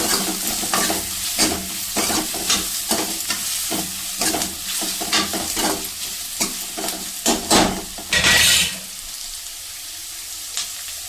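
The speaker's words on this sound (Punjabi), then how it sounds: "ਹਲਕਾ ਹਲਕਾ ਬਰਾਊਨ ਕਰਨਾ ਸੋਇਆ ਦੇ ਵਿੱਚ ਪਿਆਜ਼ ਵੱਧ ਪੈਂਦੇ ਆ" Onions frying for a soya and ridge gourd sabzi are stirred in a hot pan, with close, irregular scrapes and spoon knocks over a steady sizzle and a louder burst of frying near the end.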